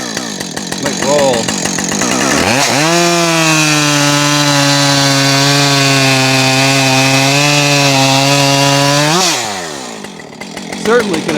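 Husqvarna 562xp and 555 chainsaws cut wood with a loud, sustained high engine whine lasting about seven seconds. The pitch climbs as the saws rev up, holds steady through the cut and drops away at the end.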